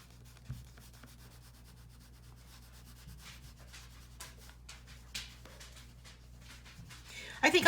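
A gel pen pressed down hard to burnish its color leaves a soft, dry rubbing and scratching close by, in short uneven strokes, with a few louder taps near the end.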